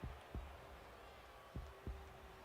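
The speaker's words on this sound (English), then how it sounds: "The heartbeat" A heartbeat sound effect in wrestling entrance music thumps in two paired double beats, deep and punchy over a low hum, with a faint sustained tone between them.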